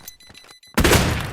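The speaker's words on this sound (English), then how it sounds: "Ready to breach the wall. Frag out. Breaching." A wall is breached with an explosive in the tactical shooter PUBG: Blindspot, a sudden loud blast with crumbling debris that bursts in after a short quiet lead-in and fills the rest of the moment.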